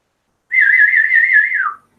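A person whistles one long, close, clear note with a slight warble that dips at the end to call a cat, alone against silence.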